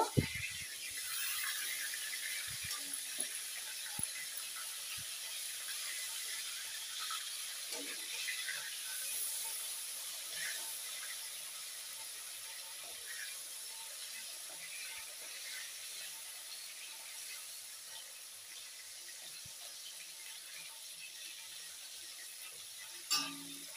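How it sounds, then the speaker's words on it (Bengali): Fish fry in hot oil with a dense, continuous crackle and hiss that holds steady, plus a few sharper pops at the start and end. "মাছ ভাজার জন্য তেল দিয়েছি, তেল গরম হয়ে গেছে, মাছগুলোকে ভেজে নেব।"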